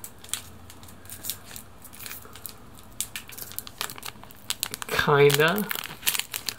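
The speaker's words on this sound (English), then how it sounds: "in the Japanese pack, there's this little part where you can just rip it on the side" A Japanese trading card pack wrapper being crinkled and torn at the side, close crackly plastic rustles and rips scattered through, with a voice talking briefly near the end.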